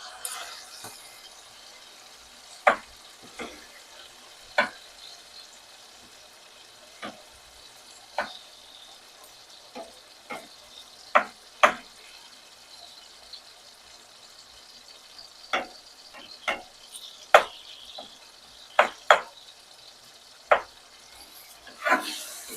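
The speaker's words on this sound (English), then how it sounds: "once that tomato juice pops out of there with the hot oil, they're gonna burst" Tight, juicy tomatoes fry in hot oil in a pan, a soft continuous sizzle broken by sharp irregular pops and spits as their skins burst, some close and loud, others fainter.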